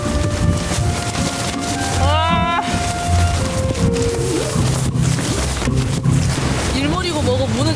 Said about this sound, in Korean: 바람이 너무 불어가지고